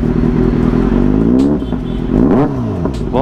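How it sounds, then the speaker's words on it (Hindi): A superbike with a loud aftermarket exhaust idles with a rough burble, then blips the throttle in two sharp revs that rise and fall. "तो भाई ने अभी जो एग्जॉस्ट लगा रखा आफ्टर मार्केट लगाया हुआ है,"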